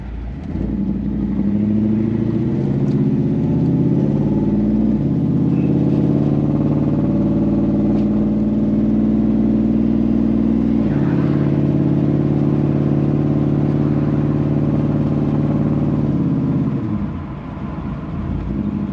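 A car with a stall converter pulls away from a stop, its engine droning loud and steady as it accelerates, with pitch climbing and dropping at gear changes before easing off near the end.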